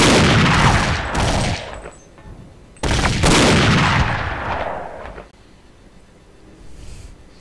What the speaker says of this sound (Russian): Так, надо в него первым выстреливать.